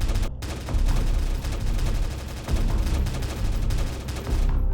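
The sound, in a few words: gunfire shooting mutant zombies, Minecraft video game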